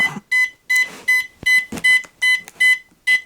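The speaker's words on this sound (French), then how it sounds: "on reste sur le bouton jusqu'au bip" A string of short, clear electronic beeps from a radio-control transmitter during calibration, all at one pitch, repeating at a fairly even pace with brief gaps between them and no voices.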